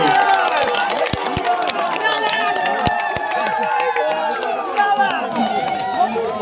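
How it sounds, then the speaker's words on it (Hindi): A large crowd at a political rally in Odisha claps and cheers in a dense, steady roar, with sharp claps popping out of it and no clear speech above the noise. "और जोर से हुड़ाहुड़ी और करताली"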